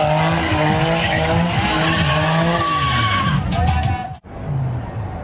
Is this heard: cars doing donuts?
yes